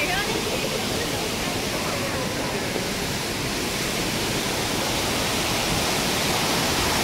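Water rushing down near a hiking trail below a glass bridge in China, a constant hissing roar, loud and close, with no pauses.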